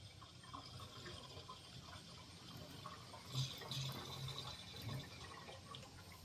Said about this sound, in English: Hold your funnel. Pour your oil.